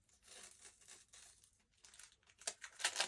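Paper letter envelope being torn open by hand, soft intermittent crinkles and rips growing louder toward the end, close and quiet with no talk.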